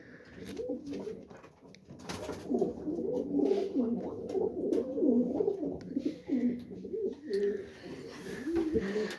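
Feather-footed pigeons coo in a repeated, throaty rolling rhythm close by, with soft rustling and a few light knocks around them.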